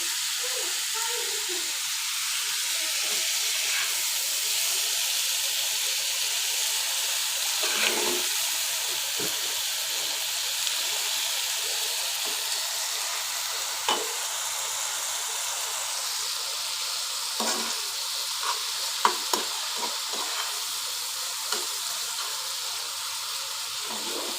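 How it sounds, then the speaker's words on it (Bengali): Hilsa fish frying in a pan after a fresh pour of mustard oil makes a continuous hissing sizzle, with occasional small pops and crackles breaking through the steady spatter. "তেল দিয়ে দিচ্ছি, সরিষার তেল দিয়ে খাই আমি"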